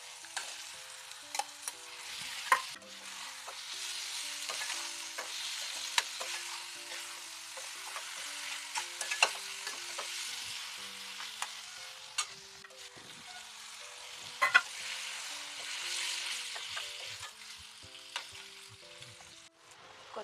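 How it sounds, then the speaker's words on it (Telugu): Chicken pieces for a cucumber and egg chicken curry sizzle and fry steadily in a pan, with occasional scrapes and clinks of a spoon stirring, quiet and close, with no voices. "చికెన్ అనమాట ఇందులో వేసేస్తున్నాను"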